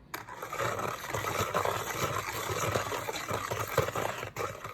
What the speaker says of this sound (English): So now I'm gonna whisk all of this together